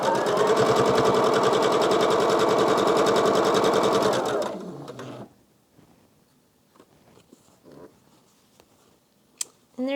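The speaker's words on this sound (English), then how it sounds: "I'm going to take these here, sew them together." A sewing machine stitches quilt pieces together in a steady, loud run of rapid needle strokes for about four seconds, then stops, leaving quiet handling noises and a few soft clicks.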